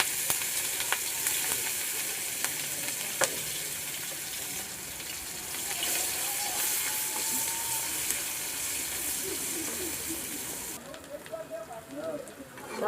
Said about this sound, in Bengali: আমার পেঁয়াজগুলো সুন্দর করে ভাজা হয়ে গেছে।